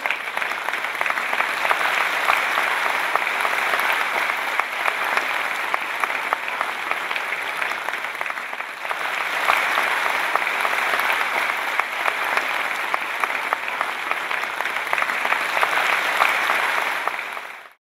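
A crowd at a ceremony in Delhi gives sustained, enthusiastic applause, an even wash of many hands clapping that continues for a long stretch before cutting off.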